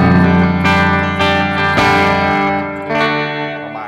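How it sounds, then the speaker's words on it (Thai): A clean electric guitar chord is strummed and rings out with lush, wide reverb, loud and sustained, with a couple of further strums blooming into a long decaying tail. "เราสามารถใช้รีเวิร์บตัวเดียวในการเอามาเล่นเป็นกับเสียงคลีนเพื่อให้ได้เสียงแบบมันดูกว้างขึ้นใหญ่ขึ้นได้"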